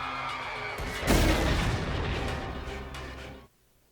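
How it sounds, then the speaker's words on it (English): A single heavy explosion from The Book of Boba Fett bursts in with a deep boom, then rumbles and crackles for a couple of seconds before cutting off abruptly. "look at that explosion"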